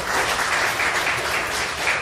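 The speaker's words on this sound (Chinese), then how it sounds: "我们再给双鹤鼓励掌声。" A seated audience at a health-supplement promotional event in Singapore applauds in a dense, even wash of clapping that holds steady throughout.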